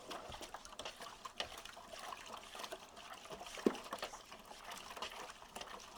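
Liquid stirred vigorously while making an Island Mist drink, a steady sloshing and trickling churn with a few sharp clinks against the container, fairly quiet and continuous with no voices.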